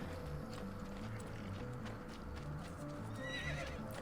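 Horse hooves clip-clopping in a steady walking rhythm with a neigh, set in the streets around Florence in Assassin's Creed II, moderately near over quiet game ambience.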